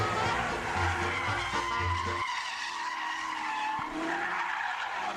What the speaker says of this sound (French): T'entends les bruits de pneus, là?